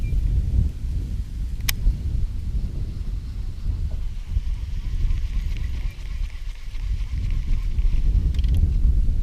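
Wind buffets the microphone outdoors during a fishing session, a constant low rumble with gusting texture from start to finish, loud and close, with a brief click partway through.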